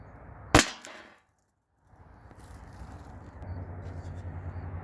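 A single sharp shot from a T4E HDR50 strikes a tin tray with a loud metallic crack, and a brief ringing clatter follows. After a pause, a low background hum rises and continues.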